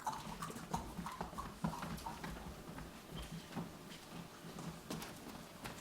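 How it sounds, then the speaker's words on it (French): Horses clip-clopping as riders come back from a ride, a steady run of hoof beats under faint background noise, moderately close and without talk. "Ils reviennent d'une balade à cheval."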